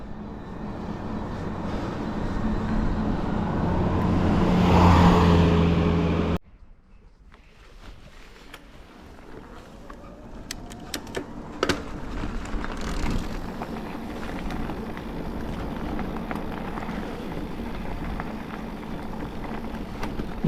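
A car drives along a coastal road in Crimea, with a loud rushing hum and wind buffeting that drop abruptly to a quieter engine and road drone, broken by a few sharp knocks.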